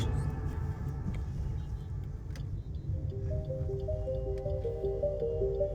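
Heavy monsoon rain drums steadily on a car driving through the Kalyan area near Durgadi, a dense, close wash of drips and road spray that runs for the whole stretch, with a few faint tonal notes emerging partway through.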